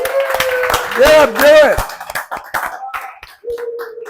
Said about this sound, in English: let's have a huge round, warm of applause for Sandy.